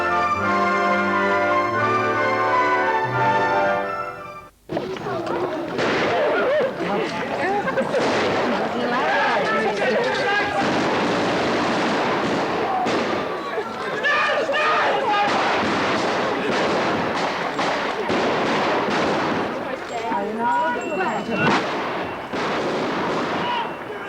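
Gunfire and artillery crack and boom in rapid, irregular bursts during a staged wartime attack on a village railway station at a 1997 Pickering wartime reenactment weekend, loud and continuous after a brief tonal passage at the start.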